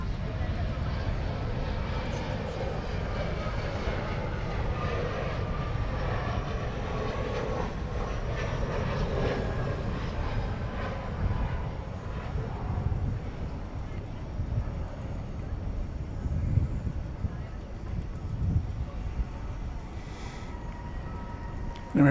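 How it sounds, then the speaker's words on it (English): An American Eagle Embraer 175 jet touches down at DFW airport at night, a long, steady engine roar and rumble from some distance, with voices now and then over it. "An American E-Jet touching down from San Antonio, flight 3878, American Eagle, Embraer 175."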